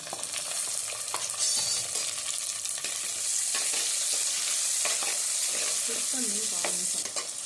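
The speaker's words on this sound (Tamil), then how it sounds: "சின்ன வெங்காயம், பெரிய வெங்காயம், பூண்டு எல்லாத்தையும் ஒன்றா போட்டு நல்லா வதக்கிக்கோங்க எண்ணெயில்" Small onions, big onions and garlic sizzle steadily in hot oil, with a spoon scraping and stirring the pan at intervals.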